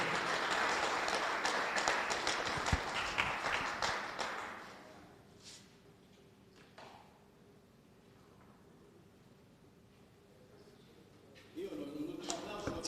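Applause honouring the Italian under-18 individual bocce champion at a raffa bocce event, a burst of clapping that fades out after a few seconds, leaving quiet room noise and faint voices before another short rise at the end.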